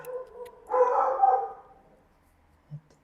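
A dog barks in a short burst of a few close, sharp barks from inside a home, followed by quiet and a single faint thump.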